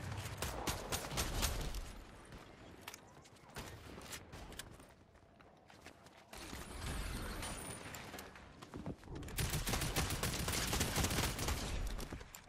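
Rapid bursts of gunfire from a Fortnite match, clustering in dense volleys with brief lulls between them, loud and close with some footstep-like clatter mixed in.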